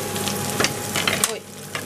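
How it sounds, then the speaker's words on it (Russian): Onions sizzle and fry in a pan at home, a steady close crackle with a few brief louder pops and stirring scrapes, easing slightly toward the end. "Я думаю, что лук уже обжарился."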